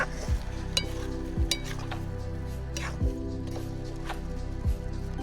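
Sevaiya vermicelli with cardamom being stirred in a pan outdoors on a farm: a steady low sizzle with a few sharp scrapes and clinks of the spoon against the pan, close up, with no talking.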